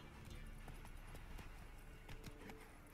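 Hooves of the horse Roach clip-clop in a steady trotting rhythm in The Witcher 3, faint and continuous under ambient game sound.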